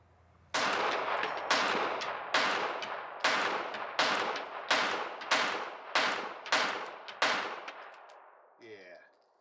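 A handgun fitted with a Holosun EPS red dot fires about nine loud, evenly spaced gunshots, each sharp crack ringing out into a decaying echo, with a faint metallic clatter after the last shot.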